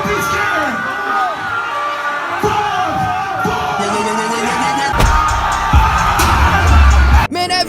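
A crowd of fans cheers and chants for a rapper performing above them, a dense roar of many voices that swells toward the end before a sudden thump and cutoff.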